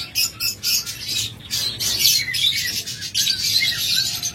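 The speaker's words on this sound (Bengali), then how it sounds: "এটা হলো অলিভ ফিশার অপালাইন, চমৎকার পেয়ার" A pair of olive opaline Fischer's lovebirds chirps close by in bright, rapid bursts, calls overlapping and broken by short pauses, with no one talking.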